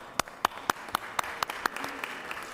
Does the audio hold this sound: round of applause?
yes